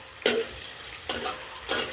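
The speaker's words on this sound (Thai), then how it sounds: "วันนี้เราจะมาผัดมีสัวก่อน กันครับ" Blanched misua noodles stir-fried with sesame oil: three quiet bursts of utensil scraping and stirring with a soft sizzle, spaced under a second apart, with no talking.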